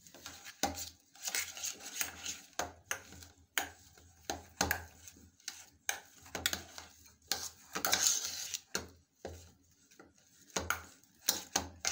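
A cheese dahi kabab mixture being mixed with bread in a bowl: close, irregular bursts of spoon clinks and scraping against the bowl, separated by short pauses, with no voices.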